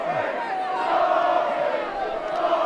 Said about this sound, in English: The crowd getting involved.